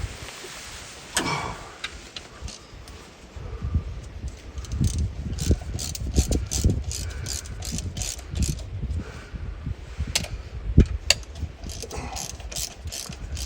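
A ratchet with a socket extension tightens bolts on an old Chevrolet C10 pickup left in the woods, giving bursts of rapid clicking pawl strokes with pauses between them, close and alone.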